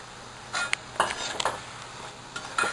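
A metal ladle scooping crisp fried snack out of a frying pan, a few separate clinks and scrapes against the pan over a faint sizzle.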